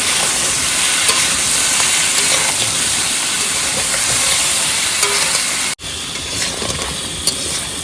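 Crab sautéing with ground spices in a pan on a boat on a Sundarbans river, a steady loud sizzle and hiss with faint stirring scrapes, briefly cut off near the end, no voices.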